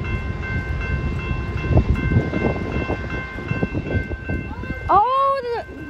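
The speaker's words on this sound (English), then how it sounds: "Oh, the freight train's moving." A Kansas City Southern freight train rumbles and clanks nearby with irregular metallic knocks, then a loud horn blares briefly near the end.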